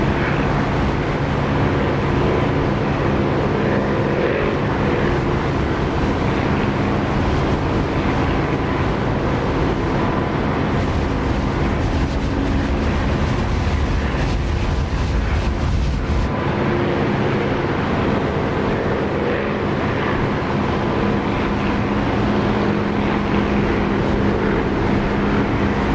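Aircraft engine in the DCS flight simulator, heard with the cockpit canopy open: a loud, steady, broadband roar and whine that drones on without a break.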